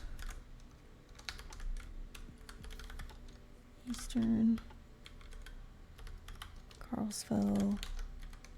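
Computer keyboard typing clatters in steady quick bursts throughout, close and fairly loud, with a couple of brief spoken words breaking in partway through.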